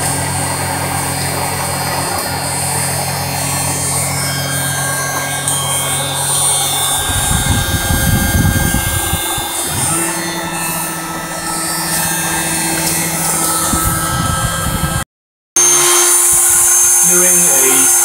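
A small CNC mill cuts an injection mold with a 2.3 mm four-flute end mill, giving a continuous whirring and grinding drone that swells louder midway, then breaks off briefly near the end, with a voice over it.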